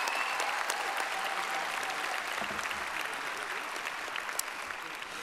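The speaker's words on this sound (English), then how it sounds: "Let's give our associate candidates a round of applause" At a college commencement ceremony, the audience gives a round of applause for associate degree candidates: a steady, even wash of many hands clapping at moderate distance, sustained throughout without talk.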